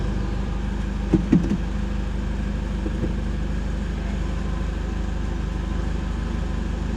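A Toyota Hilux N70 that has just had an automatic transmission conversion idles steadily with a low drone, and a couple of brief knocks come early on.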